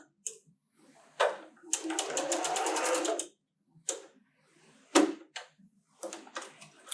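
A sewing machine stitches a seam on a quilted table runner, running in a steady burst of about two seconds, preceded and followed by short clicks and fabric handling, close and clear.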